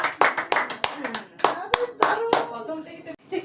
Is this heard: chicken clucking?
no